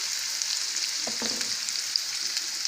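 Onion sizzles in oil in a frying pan, an even, close hiss with a few brief crackles and a short knock of a utensil midway.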